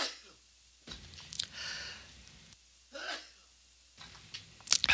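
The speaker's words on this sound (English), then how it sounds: "Sorry, my sneezing is a bit out of control." A man sneezes and gasps repeatedly in short bursts with pauses between, close and fairly loud, the last burst sharpest.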